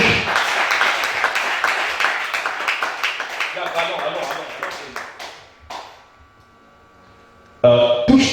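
A church congregation claps and applauds in steady, lively rhythm, loud and close, fading out midway to near quiet before a sudden burst of sound returns at the end.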